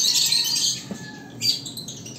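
Lovebirds squawk and chirp in shrill, busy bursts close by in a crowded nursery, a dense chattering flock with no voices.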